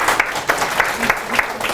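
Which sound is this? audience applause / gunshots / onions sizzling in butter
audience applause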